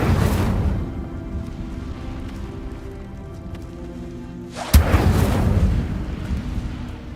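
Fire spell from the video game Hogwarts Legacy: a roaring whoosh of flame fading to a low rumble, then a sudden sharp burst followed by crackling fiery noise.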